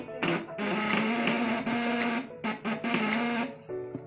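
A small electric motor on a 24–48 V test rig hums and whines steadily after a capacitor is jumpered in, close and continuous with a few brief dips in level.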